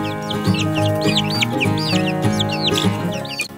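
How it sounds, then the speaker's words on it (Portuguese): Rhode Island Red hens and a New Hampshire rooster cluck and chatter in a busy, continuous flock sound, with repeated close, loud calls overlapping throughout and no talking. "separei aqui algumas galinhas Rhode Island Red com o galo New Hampshire"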